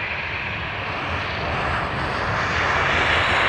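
A Ryanair airliner landing at Dublin Airport after arriving from Nantes, its engines a steady, loud broadband roar that swells slightly toward the end, with no voices over it.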